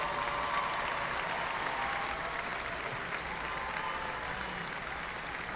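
Sustained applause from a large commencement audience at Southern Illinois University's spring 2022 ceremony for cum laude graduates, a steady distant wash of many hands clapping without a break.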